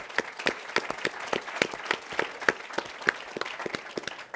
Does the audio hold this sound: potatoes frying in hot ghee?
no